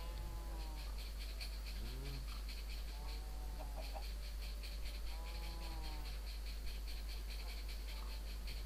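Soft clucks from a Minecraft chicken come in short bursts over a constant low hum and buzzing, insect-like background, faint and a little distant.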